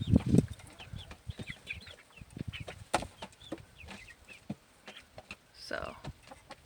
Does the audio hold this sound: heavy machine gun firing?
no